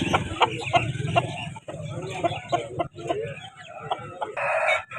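A rooster crows and clucks at a fowl market where birds are sold, repeated throaty calls close by, mixed with other poultry sounds and people talking nearby.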